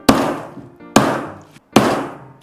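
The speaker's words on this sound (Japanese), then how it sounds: "それでは背骨も切っていきます" Three heavy, hard chops of a knife cutting through the backbone of a large fish, evenly spaced, loud and close, each followed by a short resonant decay, with no talk.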